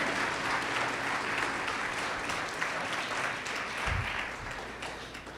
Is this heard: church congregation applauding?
yes